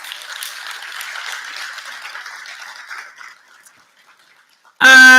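A conference audience at the Africa Bitcoin Conference applauds a newly announced director, a dense burst of clapping that swells, holds for about three seconds, then thins and fades out before a sudden loud tonal sound cuts in at the end.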